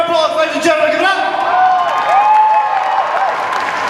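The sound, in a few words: audience applause for Warhammer 40k cosplayers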